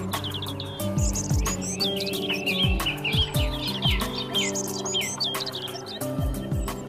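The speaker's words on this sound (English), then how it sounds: "The biologically productive wetland receives thousands of migratory birds." Thousands of migratory birds chirp and call in overlapping bursts at a wetland in Delhi, rapid high twittering over lower rhythmic calls, loud and close throughout.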